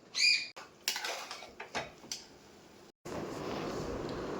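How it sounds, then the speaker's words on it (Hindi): A pressure cooker is lifted off an induction cooktop and set onto a gas stove in a home kitchen, with a few sharp metal clanks and scrapes, then a steady hiss like a gas burner. "तो चलिए अब कुकर को हटाते हैं इंडक्शन से और गैस पे चढ़ाते हैं।"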